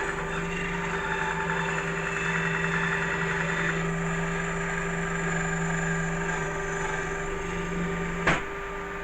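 An old bandsaw bought at auction runs steadily in a workshop, a constant mechanical hum with strong tonal lines, close and even, with a brief sharp click near the end.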